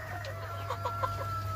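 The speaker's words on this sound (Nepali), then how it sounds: "कुखुरै कुखुरा छ, कति छ कति कुखुराहरू।" Local chickens, mostly hens, cluck softly on a poultry farm in Nepal, with a few scattered short calls over a steady low hum in the background.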